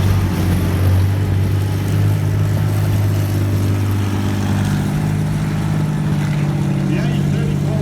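The engine of an A34 Comet tank runs at a steady, loud, low rumble throughout, with a deep droning hum. No words are spoken.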